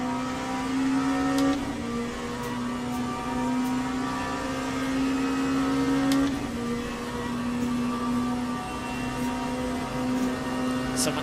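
Corvette race car in the Le Mans Ultimate racing game, a steady loud engine drone with sustained tonal whine and shifting pitch as it brakes into a corner, continuous throughout with no talking.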